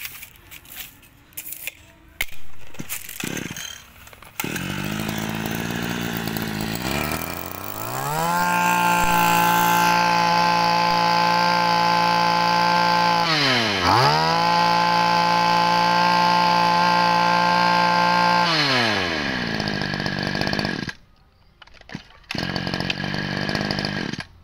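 A chainsaw starts with a few pulls, then revs loudly, dips, revs high again and holds a steady whine before cutting off.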